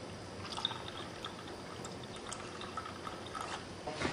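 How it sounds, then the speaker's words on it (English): Water flushing through part of a fill station machine, a steady broadband wash of rushing liquid with small drips and splashes, faint and continuous throughout. "I just have to flush out this part of the machine with water before we reuse it."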